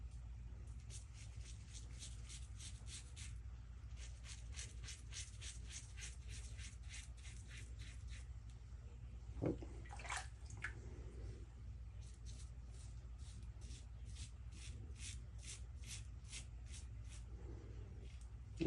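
A razor makes short, quick passes over a week's stubble, rhythmic rasping scrapes in close bursts, quiet and intimate, with a soft clunk partway through and a low hum beneath.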